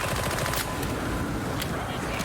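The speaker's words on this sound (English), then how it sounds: "We'll send some bullets downrange." Rapid gunfire in the video game Warhammer 40,000: Darktide, a dense continuous burst of shots lasting about two seconds with a couple of sharper cracks near the end.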